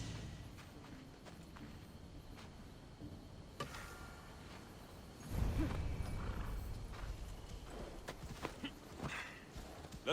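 Horse riding in Assassin's Creed Odyssey, soft hoofbeats clip-clopping at a steady pace, faint and fairly distant, swelling briefly in the middle with a louder rumble of movement.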